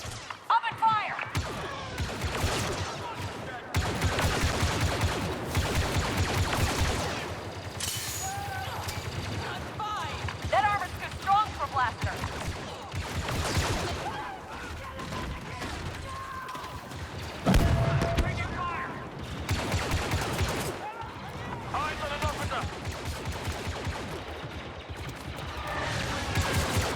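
Sustained bursts of blaster and gunfire in the Star Wars Battlefront 2 video game, with crashes and impacts layered over game voices and a music bed.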